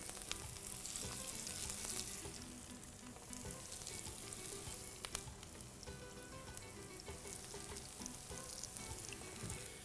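A gram-flour batter snack frying in hot oil in a pan, a dense, steady sizzle with crackling pops and occasional stirring, close and continuous.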